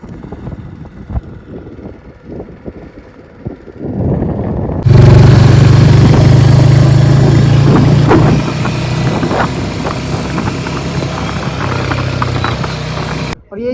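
Hunter motorcycle engine on a village road, a rough idle that swells into a loud, steady running roar with wind buffeting, heard close from the rider's position.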